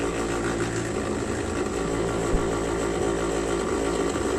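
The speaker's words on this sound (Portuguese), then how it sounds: "Uma das maneiras mais legais é utilizando esse equipamento aqui, o Vortex, que ele agita a solução." Vortex mixer agitating a solution in a lab tube, a loud, continuous buzzing motor drone with a steady rattling hum, close and unbroken throughout.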